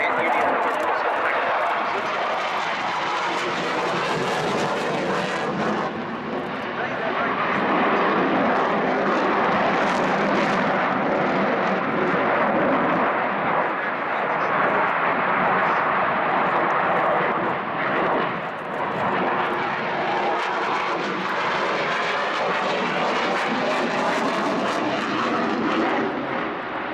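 A B-25 bomber flying at an airshow, a loud continuous engine drone that swells and eases over the whole stretch, with a crowd murmur beneath it.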